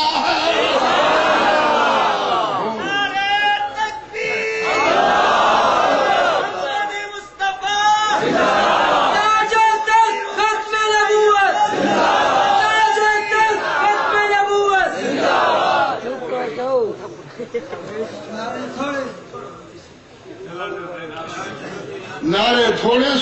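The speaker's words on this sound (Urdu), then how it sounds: "وہ ہے کوئی نعرے ٹھوک گئے" A large crowd at a religious gathering chants slogans in loud unison, with repeated surging call-and-response shouts that fill the whole stretch and only brief dips between them.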